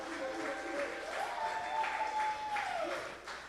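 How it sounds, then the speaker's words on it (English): Audience applause for a school literature club at a student showcase: steady dense clapping throughout with a faint whistle-like tone and some voices mixed in. "let's give it a round of applause for the Lit Club"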